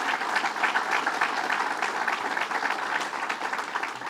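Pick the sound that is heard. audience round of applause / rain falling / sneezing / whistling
audience round of applause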